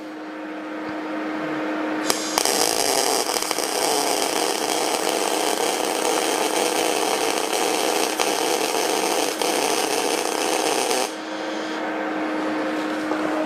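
Flux-core MIG wire welding lays a continuous bead, a loud steady crackling buzz that starts abruptly, runs about nine seconds, and cuts off, with a faint hum before and after.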